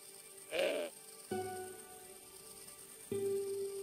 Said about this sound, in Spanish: La cabra no me iba a permitir llegar al coche.